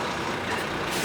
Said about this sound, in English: It's a concrete mixing lorry.